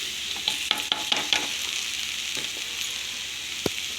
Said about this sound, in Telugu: ఈ టమాటా ముక్కలు కూడా వేసుకుందాం